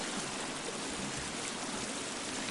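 A roaring waterfall in the survival game The Forest rushes as a steady, loud, broadband wash of falling water, continuous and unbroken throughout with no voices over it.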